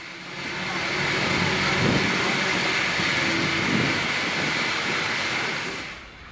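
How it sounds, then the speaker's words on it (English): A Union Pacific intermodal piggyback freight train rolls past on the main line as a broad, steady roar of wheels and cars, loud and continuous before easing off at the end. "we catch an intermodal piggyback train on the nearby Union Pacific Main Line"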